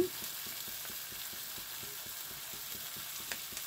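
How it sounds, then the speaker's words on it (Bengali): Chopped onion and green chilli fry steadily in hot oil in a home kitchen pan for pav bhaji, a soft continuous sizzle with faint scraping of a spatula stirring through it. "তারপরে এতে দিয়ে দেবো পেঁয়াজ কুচি, লঙ্কা কুচি"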